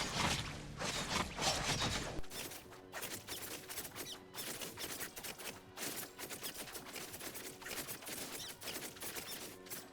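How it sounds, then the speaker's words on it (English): Dash attacks spammed by Saki in Tower of Fantasy, a dense stream of rapid clattering combat impacts and whooshes, loud and continuous with a burst of layered effects at the start. "Now we spam some dash attacks"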